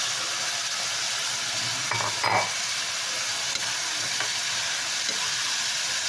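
Cabbage fries in a pan for Filipino bistek, a steady close sizzle throughout with a brief burst of louder hissing and a few light clinks as it is stirred.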